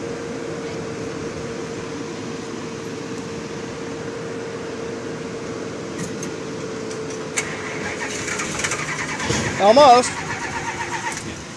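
A 1978 Chrysler Cordoba in 90-degree summer heat: a steady mechanical hum runs for a long stretch, then the engine cranks and briefly sputters toward the end, with a voice speaking nearby.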